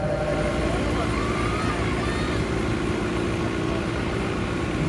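Sonalika 60 and Arjun 605 tractors at a tractor tochan pulling contest, with a steady, loud diesel engine drone running throughout and a crowd talking and shouting over it.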